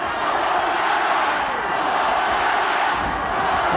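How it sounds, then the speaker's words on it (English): An arena crowd at a Pride MMA fight between judoka Naoya Ogawa and Masaaki Satake roars continuously, a loud, dense wash of cheering that holds steady throughout. "Crowd really getting into this one."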